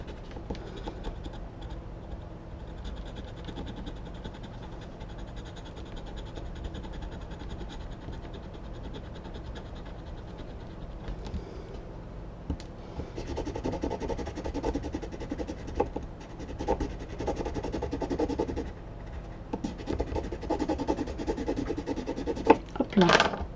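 Paper for a scrapbook sketch is scraped at a desk, giving a faint, continuous rubbing and scratching that grows rougher and more uneven toward the end, close by and with no talking.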